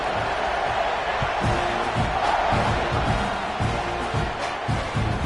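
A large crowd in a college football stadium for Nebraska against Texas A&M gives a steady, loud roar before the kickoff. A commentator's voice can be heard faintly underneath.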